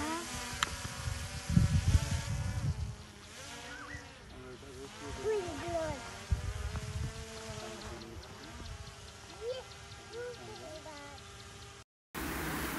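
A steady, insect-like propeller buzz hums throughout as a DJI Mini 3 drone flies in wind, with a voice speaking intermittently over it.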